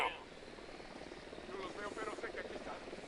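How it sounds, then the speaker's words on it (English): A helicopter in the video game Ghost Recon Wildlands thrums steadily with rotor chop at moderate distance, its drone continuing throughout while a voice talks over it. "Oh boy, I hear another helicopter."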